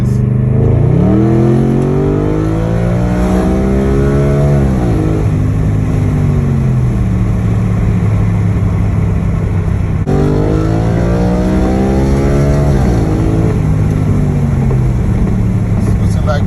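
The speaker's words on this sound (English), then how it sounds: "I had to take a little drive just to kind of show you my shift points." An Audi pulls away and accelerates hard, the engine climbing in pitch through each gear, dropping at the shifts, then rising again in a second run, loud and close from inside the cabin.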